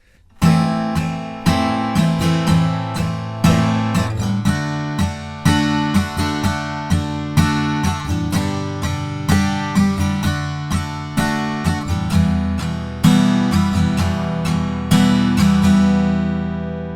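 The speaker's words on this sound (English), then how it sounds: "The strumming pattern for this final chorus is down, down, down, down, up." Acoustic guitar strums the final chorus chords of a song without a capo in a steady repeating down-down-down-down-up pattern, full and close, with no voice.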